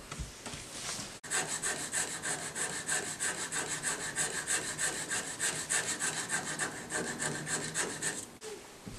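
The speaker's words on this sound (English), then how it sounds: "So instead of lubricating, I'm going to try to sand that just a little bit." Steady rapid back-and-forth rasping of sandpaper on a wooden piano hammer, close and fairly quiet, continuing rhythmically for several seconds with a brief pause near the start.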